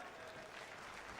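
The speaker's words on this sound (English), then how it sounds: "Very courteous applause from the fans here in Vegas." An arena crowd in Vegas applauds politely at a Call of Duty League esports event, a faint, steady wash of clapping heard from a distance.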